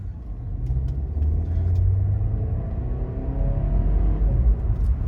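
A BMW with a B48 engine, a 330i or 530i with a leaking cooling system, pulls away at quarter throttle on a humid day, its engine a steady low rumble heard from inside the cabin, with no voices.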